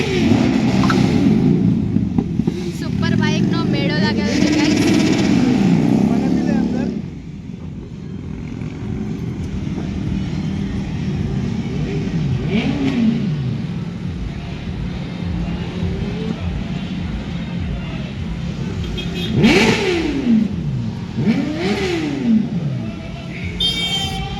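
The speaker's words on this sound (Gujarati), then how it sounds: "તો કરાવી જતો સુપર બાઇક નીકળે છે" At a superbike gathering, a superbike engine revs hard as the bike pulls away, rising and falling in sweeping bursts over a steady background of crowd and traffic noise, with sharper revs near the end.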